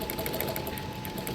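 A sewing machine stitches a silk lehenga in a quick, even run of needle strokes, close and mechanical, with no voices.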